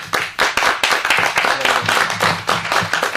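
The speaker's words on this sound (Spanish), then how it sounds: "Bienvenida y un caluroso aplauso, por favor." Warm applause from a small audience at a book presentation, close and fairly loud, with distinct individual claps standing out in a steady patter for a few seconds.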